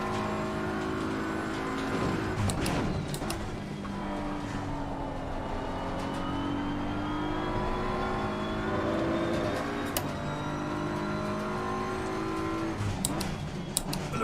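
Race car engine in Assetto Corsa Competizione slowing under engine braking with the throttle released, a loud steady drone whose pitch sweeps and falls, with a few sharp pops along the way.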